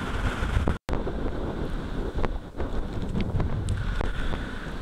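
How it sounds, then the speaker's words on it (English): Strong seaside wind at Portland Bill on the Dorset coast buffets the microphone in a loud, continuous rumbling roar with gusty swells and a brief dropout, and no voices. "if the wind dies down, I can have another go"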